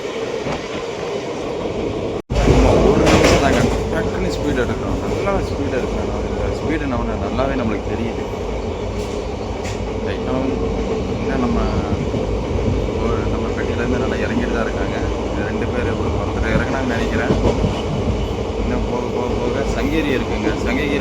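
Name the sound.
passenger train picking up speed, Salem to Erode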